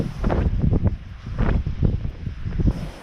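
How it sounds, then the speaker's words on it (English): Strong, gusty wind buffeting the microphone at a beach on Kefalonia, Greece, a rough continuous rumble swelling and easing in bursts. "We are trying to set up, but it's actually very windy."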